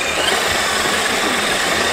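Traxxas X-Maxx RC car's electric motor straining under load while towing, a loud steady whirring drone with a high buzzing edge, close and unbroken for the whole stretch.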